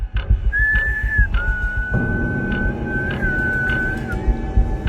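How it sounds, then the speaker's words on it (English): Several long, sustained whistled notes ring out one after another in a forest over a steady low rumble of background noise, like wind or distant ambience. "As soon as I whistled, I started hearing what sounded like whistling coming from deeper into the forest."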